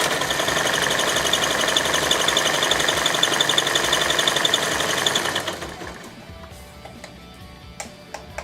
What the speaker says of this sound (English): you will sew all the way down the long edge of the fabric